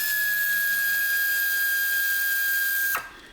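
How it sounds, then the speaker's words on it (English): A small pneumatic air tool whines steadily and loudly while loosening alternator bolts on an Opel/Vauxhall Vivaro, then cuts off abruptly with a falling pitch near the end. "what I'm actually going to use once I've cracked the bolts is my little air tool"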